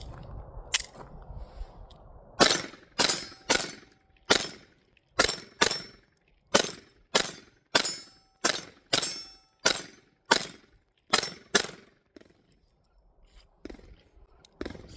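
A Taurus TX22 pistol fires Aguila high velocity copper-plated .22 rounds in a steady string of about sixteen sharp, loud, evenly spaced shots that stop with a few faint clicks after the last one.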